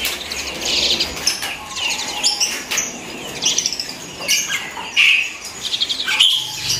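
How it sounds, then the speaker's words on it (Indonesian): Adult black-collared starlings (jalak suren) sing in a busy bird shop stocked with many Sumatran and local birds, giving a steady, dense stream of close, bright chirps and whistles with repeated sharp calls throughout. "Ini jalak suren dewasa, gacor, kalau bisa masih bunyi."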